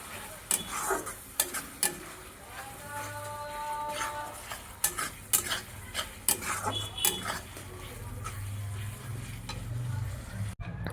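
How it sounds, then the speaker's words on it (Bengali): Fish sizzles in spice paste of turmeric and Kashmiri chilli powder in a pan, while a utensil stirs and scrapes with repeated clinks, close and moderate, under faint background noise. "তারপর এখানে দেখো মাছটা আমি কিন্তু খুব ভালোভাবে কষিয়ে নিচ্ছি"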